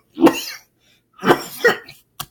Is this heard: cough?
yes